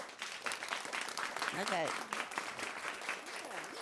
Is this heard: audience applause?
yes